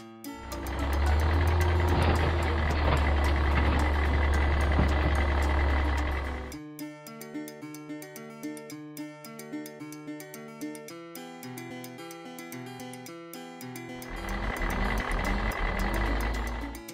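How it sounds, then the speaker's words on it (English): Garbage truck with a loud, heavy diesel engine rumble that drops away to a steady series of evenly spaced reversing beeps, then the engine roars up again near the end. "The garbage truck."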